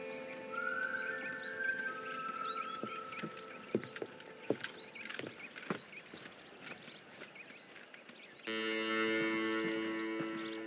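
Cattle moo in a Red Dead Redemption ranch scene, with low drawn-out lows, scattered hoof clops and birdsong over open-range ambience, before a steady musical drone swells in near the end.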